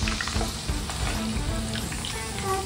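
Chicken shallow frying in a pan for chicken chilli, giving a steady, close sizzle with light crackles and occasional stirring scrapes, no voices.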